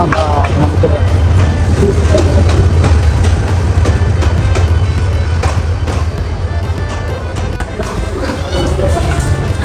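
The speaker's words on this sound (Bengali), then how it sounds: "এই যে ট্রেন ঢুকতেছে" A train pulls into a railway station, a loud, steady low rumble and clatter that runs the whole time beneath crowd chatter and voices on the platform.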